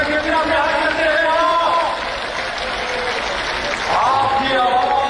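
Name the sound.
crowd applause at Imran Khan rally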